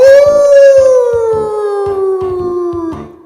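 A person imitates a wolf howl with one long, loud, close sustained vocal howl that slowly falls in pitch over about three seconds.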